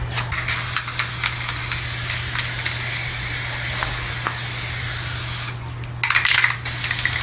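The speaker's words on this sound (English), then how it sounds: "this can came with no directions on how to spray" An aerosol can spraying engine paint on a 1970 Ford LTD, a loud continuous hiss held for several seconds, then a brief pause and a couple of short sputtering bursts.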